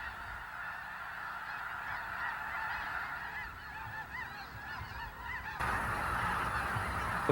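White-fronted geese honk steadily in Texas, a dense chorus of many overlapping calls carrying from a flock at middle distance, growing slightly louder and fuller in the last couple of seconds.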